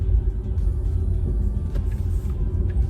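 A Porsche Panamera rolls along slowly with a low, steady engine and road rumble inside the cabin, continuous and fairly loud, with no voices.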